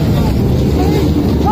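Motorcycle without a kick start, just push-started at a drag racing event in Ourinhos, its engine running with a steady droning hum under a voice.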